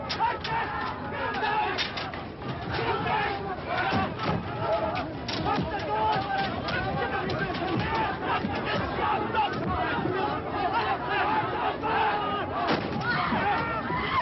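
A large agitated crowd mobs a car stopped in a street, many voices shouting and clamouring together in a dense, continuous roar with sharp bursts and cries, steady and close throughout.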